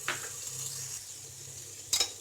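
Chicken liver frying with yogurt in a pan, a soft steady sizzle with a quick scrape of a spoon at the start and another near the end, no talking.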